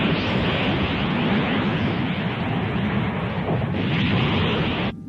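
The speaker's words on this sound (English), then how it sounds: "High pressure explosive strike confirmed." A Noventa cannon fires and a high-pressure explosive strike hits in an anime battle, a loud, sustained roaring blast that rumbles for about five seconds before cutting off abruptly.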